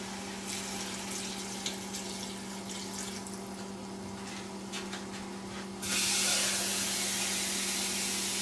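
A stream of water pours into a pot of minestrone soup with a hissy splash, then abruptly grows louder and brighter near the end, over a steady background hum.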